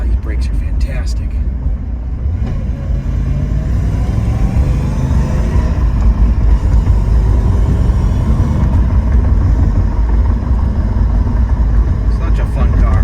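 Cabin sound of a low-mileage 1991 Chevrolet Camaro Z28 1LE 5-speed on the move, a strong low engine and road rumble that builds slightly, with someone talking over it at times.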